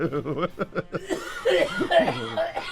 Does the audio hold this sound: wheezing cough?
yes